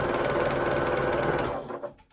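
A sewing machine runs fast and steadily, stitching a straight seam joining jelly roll fabric strips for a rug, then slows and stops near the end.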